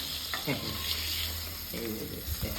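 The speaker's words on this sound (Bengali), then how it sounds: "এই যে মাছ ভাজাভাজি চলছে" Fish frying in a pan at home gives a steady sizzle, with brief clinks and scrapes of handling over it, close and moderately loud.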